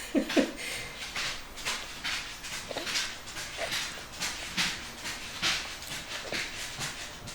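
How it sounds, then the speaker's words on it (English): A dog walks around a house on hardwood floors, its nails and paws making repeated light clicks and taps at an uneven rhythm, close by and fairly quiet, with no talking. "It's always fun having a dog with hardwood floors. You can hear him walking everywhere."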